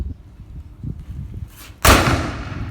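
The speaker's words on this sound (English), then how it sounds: "I'll fire one more shot as well" A Civil War era percussion cap gun fires a single sharp, loud shot near the end, its blast ringing out and decaying slowly after a stretch of quiet low rumbling handling noise.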